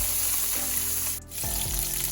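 Curry leaves, garlic, mustard seeds, fennel and dried chillies crackling in hot oil as tempering for fish curry, a steady close sizzle with a brief dip midway before the frying resumes loudly.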